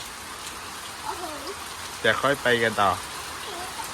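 Steady rain patters throughout at a beach, a soft constant hiss, with a short burst of speech partway through.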